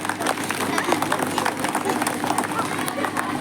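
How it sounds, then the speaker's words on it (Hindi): An indoor crowd at a Shipra Kayastha Mahasabha community gathering for Kalam Dawat and Shri Chitragupta Puja claps loudly and continuously, a dense patter of many hands with light crowd murmur underneath. "शिप्रा कायस्थ महासभा के लिए मैं जोरदार ताली बजाता हूं।"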